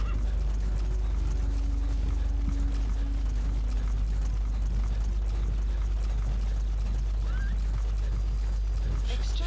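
Horse hooves clip-clop at a steady pace in Metal Gear Solid V, faint beneath a constant low hum and background game ambience.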